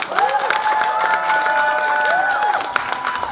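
Convention panel audience applauding and cheering for Star Wars, a loud crowd roar of clapping, whoops and shouts that carries on steadily throughout.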